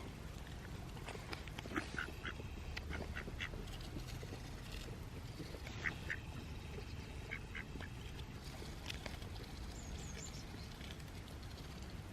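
A duck at a campsite waterside gives scattered short quacks over about twelve seconds, soft and close-by, above constant outdoor ambient noise while being hand-fed granola.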